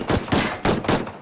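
Gunfire in Ghost Recon Wildlands Guerrilla Mode, four loud close shots in an evenly spaced rhythm, each with a brief ringing tail.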